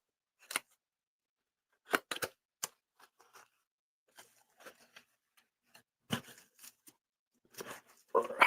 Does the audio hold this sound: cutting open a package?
yes